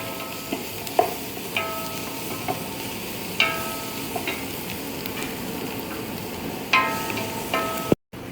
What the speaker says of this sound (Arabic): لازم نخليها تحمس شوية علشان طبعا أنا قاعد أنزل الخضرة تدريجي يا جماعة عشان بس أكسر الحرارة